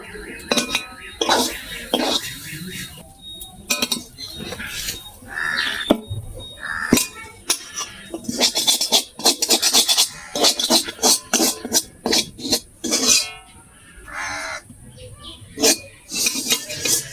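Batter is poured from a wok onto an oiled plate and scraped out, giving loud, irregular metallic scrapes, clinks and knocks of utensil against metal in quick clusters, close up, with no talk.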